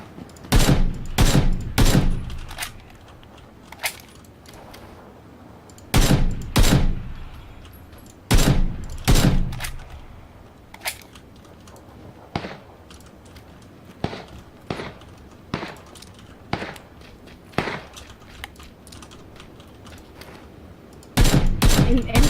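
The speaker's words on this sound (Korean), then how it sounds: "저 여기서 넘어온 애들 좀 쏘고 있을게요" Gunfire from PUBG on the desert Miramar map: sharp rapid bursts of shots in clusters, some loud and close, others fainter single cracks spaced between, with a final heavy burst at the end.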